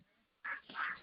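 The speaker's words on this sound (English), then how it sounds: "as long as the guinea hens don't follow me." Guinea hens call outdoors on a farm, a short harsh squawking burst heard at a distance and fairly faint, following a near-silent pause.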